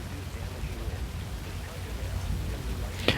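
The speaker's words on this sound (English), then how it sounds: "We're just punching through the hail core right now." Steady pounding of large hail on a storm-chasing vehicle driving through a hail core, heard as a dense continuous clatter with a sharper impact right at the end.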